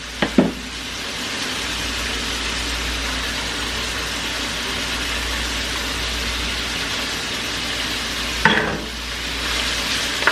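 Chopped onion, one medium onion, hits a hot pan seasoned with sesame and soy for a crab bake, giving a loud steady sizzle with stirring scrapes and a fresh burst of frying near the end.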